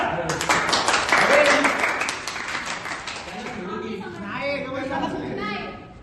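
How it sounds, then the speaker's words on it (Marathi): An audience applauds at a school event, a burst of clapping that fades out while voices chatter and talk over it. "टाळ्या"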